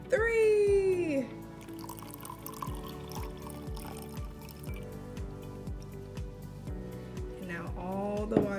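Half a cup of warm water is poured into a container for a gummy bear experiment, giving a steady trickle with rapid drips. A voice speaks briefly at the start and end.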